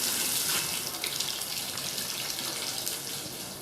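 An old shower in a 1930s interior runs steadily, a faint, even hiss of spraying water with no talk over it.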